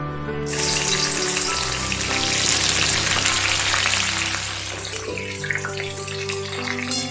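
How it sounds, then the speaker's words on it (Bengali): Two spoons of ghee hitting hot white oil in a kadai, setting off a loud, steady sizzle that holds close and continuous without talk, easing slightly toward the end. "এবার কড়াতে সাদা তেল গরম দিলাম আর তার মধ্যে 2 চামচ ঘি দিলাম"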